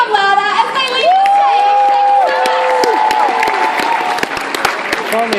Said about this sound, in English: Make that applause even louder as they leave the